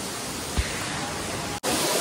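Savatkada waterfall near Rajapur in Konkan makes a dense, loud, continuous roar of rushing water, broken by one brief thump and a split-second dropout near the end.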